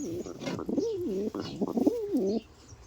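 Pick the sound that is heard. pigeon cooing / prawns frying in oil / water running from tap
pigeon cooing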